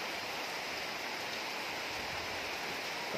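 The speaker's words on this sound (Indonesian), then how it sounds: "2 hari ini hujan, kemarin agak kecil dan sekarang lumayan lebih besar dari kemarin hujannya" Steady, even rain, heavier than the day before, falls over a three-year-old durian plantation; a dense, continuous hiss without any voices.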